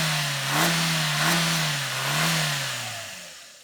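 The engine of a 2024 Maruti Ignis with a five-speed gearbox rumbles close by, swelling and easing in a few gentle blips before settling and fading toward the end.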